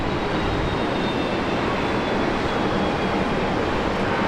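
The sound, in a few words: Korean Air airliner at Brisbane Airport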